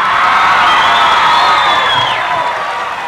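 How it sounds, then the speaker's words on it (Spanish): A large audience cheers and applauds at a live music show, a dense roar of whoops and clapping at full strength that slowly eases toward the end. "Regalémosle un aplauso gigante a Fernando."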